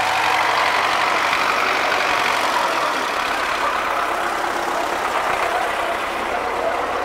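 An MTZ-82 tractor engine idles steadily nearby, a continuous rough mechanical rumble with a broad hissing clatter and no talking over it.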